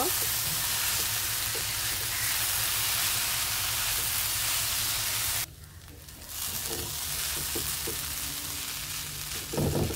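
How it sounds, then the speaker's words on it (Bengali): Vegetable roll filling with black pepper and green chilies sizzles in a pan under a loud, constant frying hiss, punctuated by soft tapping and scraping while it is mixed, with a brief dip in loudness partway through. "সবগুলো উপকরণগুলো আমি এখন ভালোভাবে মিশিয়ে নিব"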